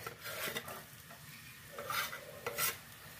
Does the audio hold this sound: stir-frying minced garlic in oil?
yes